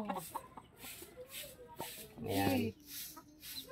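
A hen clucks in short bursts beside her caged chick in a backyard setting, with one louder call near the middle, while a person speaks quietly over the sounds.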